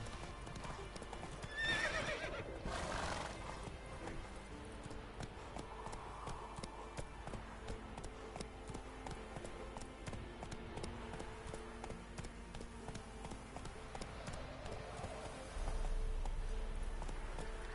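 The horse Roach gallops in The Witcher 3: Wild Hunt, a steady clip-clop of hooves running continuously, with a whinny near the start and a faint game ambience underneath.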